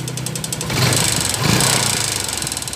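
A Yamaha Sniper 135 motorcycle engine with a broken piston runs close by, a loud, steady mechanical clatter with a rapid repeating knock that swells slightly partway through.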